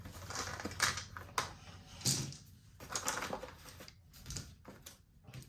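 Several dice tumbling down a dice tower during a Global War 1985 board game, heard as a quick clattering sequence of sharp rattles and clicks at close range, with no talking over them.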